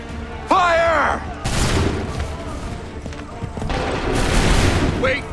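A loud musket volley erupts right after a shouted command in the Assassin's Creed 3 video game, a dense crackling roar of many guns lasting several seconds and sweeping through the scene before fading away.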